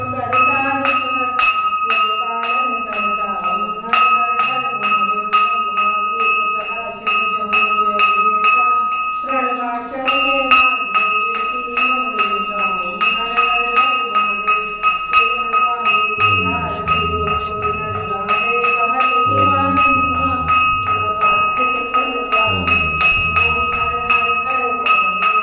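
A temple bell brought from a village temple in India rings repeatedly in a steady series of bright, sustained metallic strikes with a long shimmering ring, loud and near, with voices and other sounds mixing in below.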